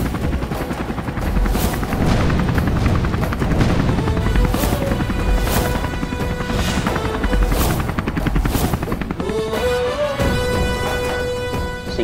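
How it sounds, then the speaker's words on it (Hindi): A loud, continuous helicopter drone with rapid rotor chopping, close overhead and steady throughout, with occasional faint thumps underneath. "बाबू हेलीकॉप्टर कहाँ से आ रहा है?"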